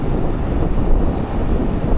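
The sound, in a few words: wind blowing at the beach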